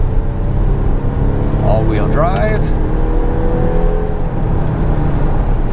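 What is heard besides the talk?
2025 Volvo XC60 plug-in hybrid engine accelerating uphill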